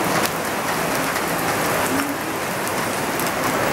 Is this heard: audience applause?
no